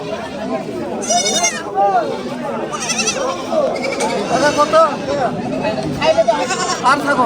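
Young goats bleating repeatedly at a livestock market in Bangladesh, several close, loud, wavering cries over a busy background, with people talking nearby.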